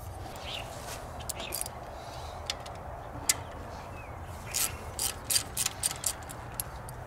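A ratchet loosens the alternator bolts on a Ford Grand Marquis, its pawl clicking in close, quick bursts with short pauses between strokes, over a quiet garage background.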